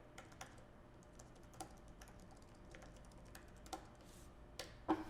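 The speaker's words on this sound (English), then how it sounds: "I can simply type to Mike," Light, soft keystrokes tapped on a computer keyboard in a quiet room, a sparse, irregular run of faint clicks typing a message, with no talking.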